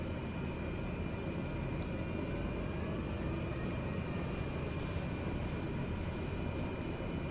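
Steady drone of a Cessna 208B Caravan turboprop engine with props at full RPM in Microsoft Flight Simulator 2020, a continuous even roar with a faint high whine, unbroken and close throughout.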